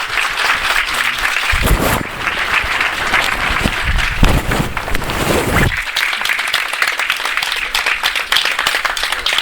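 Applause at the unveiling of an Atatürk statue, loud, close clapping from a gathered crowd that swells in bursts and continues throughout, with rustling and handling noises mixed in.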